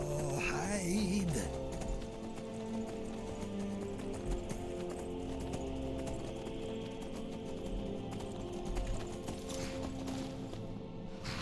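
Steady clip-clop of horse hooves while riding a steed in the video game Skyrim, a continuous hoofbeat rhythm running under game music and ambience throughout.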